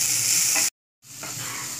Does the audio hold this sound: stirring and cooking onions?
yes